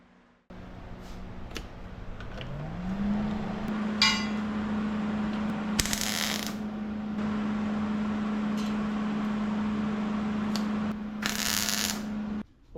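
Tack welding on a car engine bay cover panel: a steady machine hum rises and holds while two or three short, crackling bursts of welding spark through, with pauses between them.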